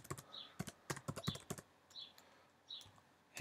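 Typing on a computer keyboard at a desk, heard as quick clusters of close, crisp keystrokes in short irregular bursts separated by brief pauses, with no talking.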